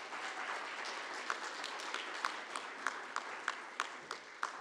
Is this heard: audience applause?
yes